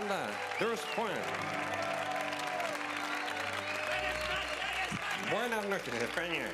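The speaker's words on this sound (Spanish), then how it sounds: "Un aplauso" A studio audience on a Spanish late-night TV show bursts into steady, loud applause, clapping continuously while someone talks over it.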